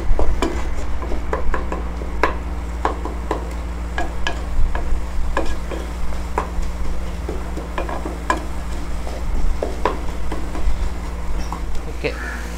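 Vegetables sautéing in a pan for veg kushka, with a low steady sizzle under repeated sharp spoon clinks and scrapes against the pan, close, and a voice speaking over parts of it.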